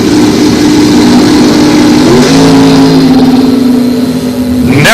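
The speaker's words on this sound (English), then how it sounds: "Check the wheelie on this here Firebird." A Firebird drag race car launches in a wheelie at a fall bracket nationals event, its loud engine roaring and rising in pitch through the run, with another rev surging near the end.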